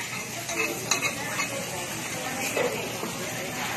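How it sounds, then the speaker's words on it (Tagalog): Kimchi rice stir-fried on a hot griddle right in front of diners at a Dohtonbori restaurant, giving a steady sizzle with occasional scraping taps of utensils, under faint restaurant chatter. "niluluto sa harap namin mismo ang kimchi rice"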